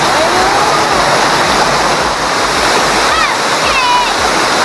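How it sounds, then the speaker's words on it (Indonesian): Air Terjun 1000, a waterfall in Aceh Tamiang, makes a loud, unbroken rush of falling water up close, and a few faint whistling tones rise above it. "ini merupakan air terjun 1000 nih guys ya"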